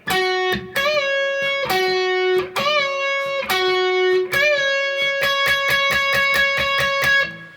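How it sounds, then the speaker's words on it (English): The lead electric guitar intro of a song plays a short melodic phrase of held notes bent up and down a semitone, then a run of quick repeated picked notes, loud and up close with some grit. "Now the song starts with a little lead intro guitar part."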